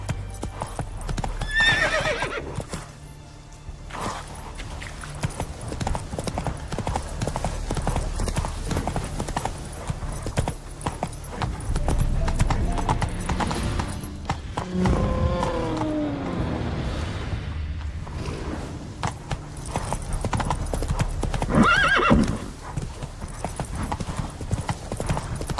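Roach the horse gallops in The Witcher 3, steady hoofbeats continuing throughout with occasional whinnies, set among ambient game sound.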